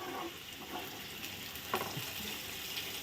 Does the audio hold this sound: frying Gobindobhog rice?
yes